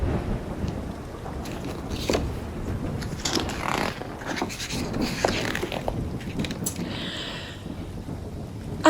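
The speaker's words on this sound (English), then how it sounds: "heavy rain hammered onto the rocks" Heavy rain pours steadily over rocks at night, with low rumbles of thunder rolling beneath the constant wash of a storm, dense and close with no voices.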